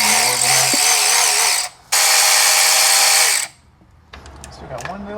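A power ratchet works on the thermostat housing of a Dodge Charger with a 5.7 engine, giving two long, loud whirring bursts with a brief pause between them, then quieter clicks and handling noises.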